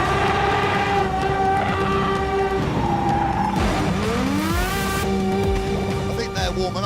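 Aston Martin Vulcan pulling away with a loud, sustained engine note that rises in pitch as it accelerates, tyre noise mixed in, with revs climbing and shifting throughout.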